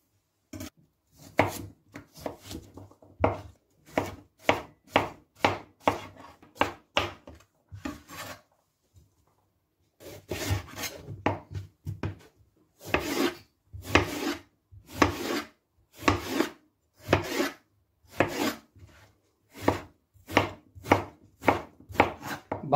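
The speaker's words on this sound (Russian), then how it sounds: "Баклажан я нарезаю не очень мелко, так как он все равно ужарится" A knife chops eggplant steadily on a cutting board in quick bursts of sharp, close knocks, with a brief pause partway through before the rhythmic chopping resumes.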